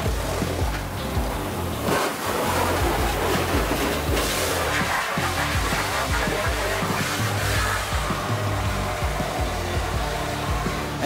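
Pressure water jet blasting inside a toilet tank during cleaning, a loud continuous hissing roar with splashing texture throughout, no pauses.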